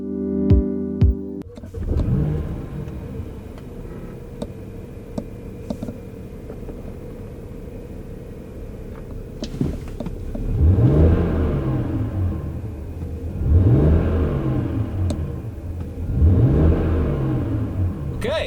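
A 2008 BMW 335i E90 sedan with the twin-turbo N54 engine (225 kW) drives on the road, its engine note swelling through three clear accelerations over a steady cabin rumble and road noise.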